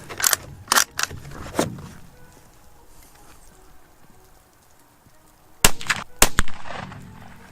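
Sharp, loud rifle reports from a Ruger American Ranch firing at Tannerite ring out outdoors, with three quick cracks early on, then a cluster of several more after a quiet gap, each trailing off in echo.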